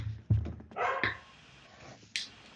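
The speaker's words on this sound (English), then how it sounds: "my dog is barking at the daughter" A dog barks in a few sharp, separate bursts at close range in a home, with no talking alongside.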